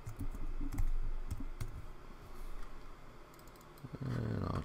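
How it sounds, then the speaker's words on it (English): Typing on a computer keyboard while entering text in Adobe InDesign, bursts of quick key clicks with pauses, fairly close and clear. "Type my name."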